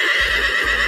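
A horse lets out a loud, close whinny that fills the whole short moment, with faint hoof thuds underneath.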